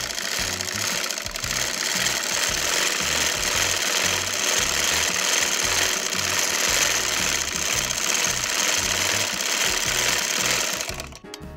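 Sewing machine stitching a seam on a dhoti salwar for a baby girl, a loud continuous rattling whir running nearly twelve seconds before stopping abruptly, close up with no talk.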